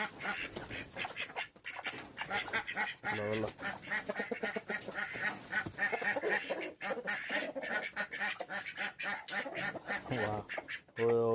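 Ducks quack repeatedly in a noisy, busy stretch, with a person speaking Tamil over and between the calls throughout.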